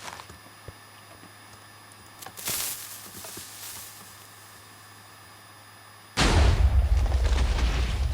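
Two TNT cannons fire in a video game: a moderate explosive boom around the middle, then a louder, sustained blast near the end, with quiet ambience between them.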